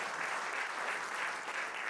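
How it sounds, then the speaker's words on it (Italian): Steady applause from a theatre audience at a live comedy show in Teatro Concordia, San Benedetto, dense and continuous throughout without any voices. "che parta pure l'applauso"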